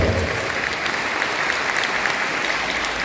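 Steady applause from an audience at a Movimiento Popular Progresista gathering in Caxhuacan, Puebla, as organizers are introduced; dense, even clapping runs loud throughout without pause.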